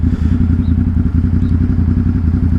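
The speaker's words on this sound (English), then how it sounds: "I just put my bike into sport mode." A motorcycle ridden in sport mode through New York City streets, its engine a loud, close, steady low rumble with rapid pulsing firing beats and faint clatter, running continuously with no voices.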